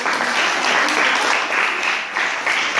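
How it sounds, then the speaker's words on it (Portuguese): Applause from a church congregation at a children's consecration service, steady broadband clapping filling the whole short stretch at a fairly close, even level. "Aplauda, Senhor Jesus"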